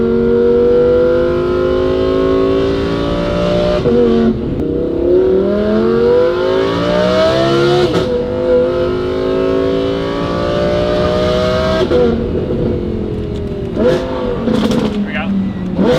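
An Audi R8 V10 fitted with a straight-through F1-style exhaust revs loudly and close, its pitch climbing and falling in repeated surges with sharp throttle blips near the end, while people talk over it.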